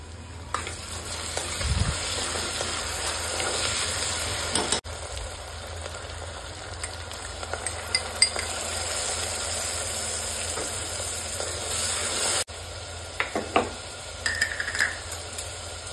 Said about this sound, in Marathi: एक चमचा आलं लसूण पेस्ट आणि 1 वाटी टोमॅटो प्युरी टाकून व्यवस्थित असं तेल सुटेपर्यंत परतवून घ्यायचं।